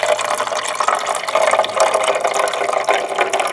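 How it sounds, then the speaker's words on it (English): Dechlorinated tap water pours steadily into a Marina EZ Care aquarium, a continuous splashing gush close by at moderate loudness with no one talking. "And as I'm pouring this water in,"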